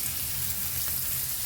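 Onion fries in oil for a quick green bean stir-fry, giving a dense, even, close sizzle with a faint crackle and no pauses.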